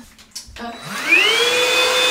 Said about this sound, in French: Passer un petit coup d'aspirateur.